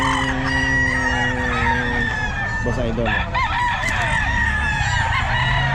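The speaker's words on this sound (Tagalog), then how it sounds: "Ayan mga manok" Roosters crow and chickens cluck continuously at a busy pet market in Bocaue early in the morning, several birds overlapping near and far while someone talks over them.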